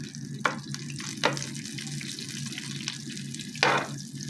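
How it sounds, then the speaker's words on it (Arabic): Butter melts in frying oil in a pan, giving a steady close sizzle with a few louder spits and stirring scrapes, no talk. "نحطوا ملعقه تاع زبده، خلوها تذوب مليح"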